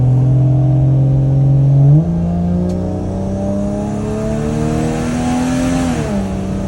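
Inside a Toyota Soarer with a big-turbo 1JZ engine while driving, a loud, steady engine drone rises in pitch, drops at a gear shift, climbs again, then settles; no talking.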